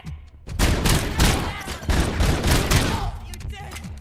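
Rapid bursts of gunfire from the Robocop video game crackle loudly and almost continuously, with sharp repeated shots and booms, while voices shout over the action.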